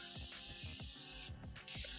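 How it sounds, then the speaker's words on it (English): Several short hissing bursts of makeup setting spray, quick and close, with brief pauses between them, followed by a faint rustle. "Setting spray, or setting mist,"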